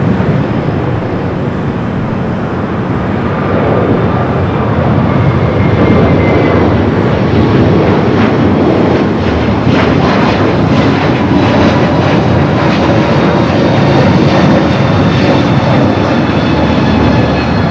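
An airplane at Los Angeles LAX airport makes a loud, continuous engine roar that holds steady for the whole stretch, with no voices over it.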